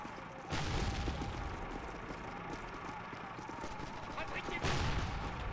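Tanks and guns fire in the Call of Duty World War II video game, a steady, dense battle din of gunfire and booms with louder bursts near the start and end.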